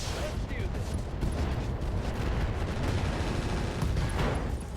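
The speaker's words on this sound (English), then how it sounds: "AC5 ammo explosion, but it was contained." An AC5 ammunition explosion in RogueTech, the BattleTech game, sounds as a dense, continuous rumble of blasts and crackling gunfire, loud and unbroken throughout.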